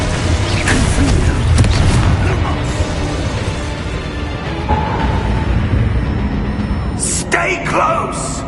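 Booming spell blasts and crashing impacts in Hogwarts Legacy combat ring out in a busy, echoing mix, with voices speaking over the effects and sharp bright bursts near the end.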